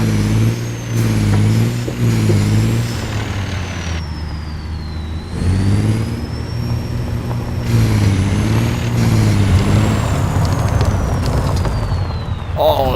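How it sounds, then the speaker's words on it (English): Truck in American Truck Simulator rolling over gravel, a continuous engine drone with shifting pitch and a rough crunching layer beneath, interrupted by brief dips as the engine note changes. "listen to that gravel sound"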